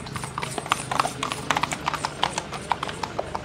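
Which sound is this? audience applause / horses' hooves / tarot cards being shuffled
horses' hooves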